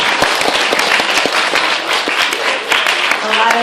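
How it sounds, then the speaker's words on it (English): A loud, full round of applause from an audience honoring a speaker at a MaryGrove community event, with dense overlapping claps and a few sharp individual claps standing out, continuing steadily throughout. "Please, let's give a wonderful round of applause for Mr. Michael Owen."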